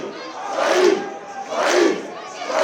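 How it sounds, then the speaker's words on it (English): A wrestling event crowd at a Nordic Elite Wrestling show in a cinema venue roars and shouts continuously, the noise rising in two loud surges over a few seconds. "Listen to this crowd as Saeem easily powers out."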